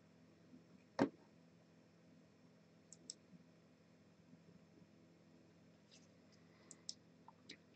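A computer mouse clicked on a StarCraft 2 animated wallpaper: one distinct close click followed by several fainter scattered clicks over low room hum.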